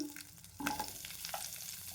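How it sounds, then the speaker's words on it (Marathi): Onion, garlic and green chili frying in oil in a kadhai pan, a soft close sizzle with a stirring scrape partway through, fairly quiet throughout. "हिरवी मिरची सर्व भाजून घेते त्याच कढईमध्ये आणि त्याच तेलामध्ये"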